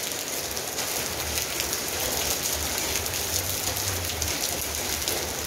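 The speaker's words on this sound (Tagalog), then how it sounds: "Lalong lumalakas ang patak ng yelo" Hailstones and heavy rain hammer down on plants during a sudden storm, a thick continuous roar of impacts that swells slightly stronger, with a faint low rumble underneath.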